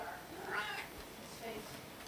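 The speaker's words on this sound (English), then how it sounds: "walk around the house meowing" A cat meows a couple of times indoors, a drawn-out cry followed by a softer one, with faint background noise and some talking nearby.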